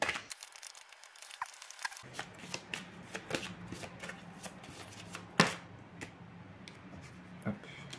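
Tarot cards being shuffled up close, a series of soft riffling slaps and papery flicks in irregular bursts, with one sharper snap midway and a quiet room behind.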